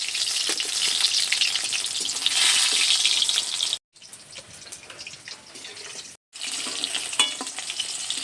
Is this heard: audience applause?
no